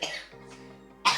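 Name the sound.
cough after drinking too much water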